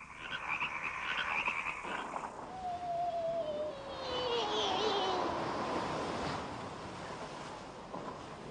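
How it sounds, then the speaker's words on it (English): Frogs croak in a soft, watery outdoor ambience, with a falling whistle-like tone sweeping through the middle and a steady background wash. "decided to start a frog farm instead"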